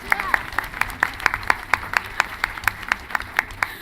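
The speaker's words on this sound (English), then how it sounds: "Round of applause." Light, steady clapping from a small group, individual claps distinct and evenly spaced over a few seconds, close by.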